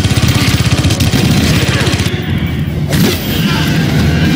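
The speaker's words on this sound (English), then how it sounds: "Check out this badass sound on this little gun." A small gun fires in Aliens: Colonial Marines as a fast, steady stream of punchy shots that runs for several seconds, with a brief lull midway and game voices and effects underneath.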